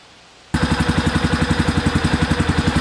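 After a half-second of quiet, a small engine starts and idles steadily, its loud, even chugging pulses repeating in a regular rhythm with no voices.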